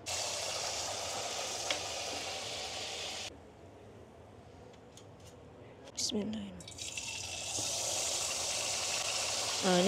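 Kuih topi batter fries in hot oil with a continuous bright sizzling hiss, interrupted by a brief quieter gap and a short voice partway through.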